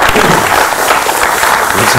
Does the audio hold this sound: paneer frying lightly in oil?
no